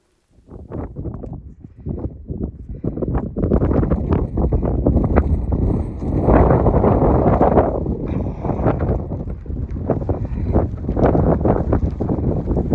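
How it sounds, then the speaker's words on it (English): Strong, gusty wind buffets the microphone on the open bald of Max Patch along the Appalachian Trail, a continuous loud roar with irregular rumbling bursts that swell and ease throughout. "It's a little windy, but I'm here at Max Patch"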